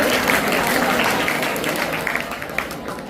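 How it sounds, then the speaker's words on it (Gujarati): Steady applause from an audience at a school Teachers' Day function, a dense, continuous patter of many hands clapping that holds at a constant level throughout and fades only slightly toward the end. "તાળીઓના ગડગડાટથી વધાવી લેજો।"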